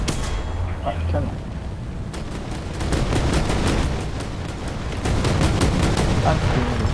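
Tank cannon fire in the War Thunder video game from a Centurion Mk3 Sho't, heavy booming blasts with rumbling rolling noise, layered with dense battle sounds and a voice speaking over it.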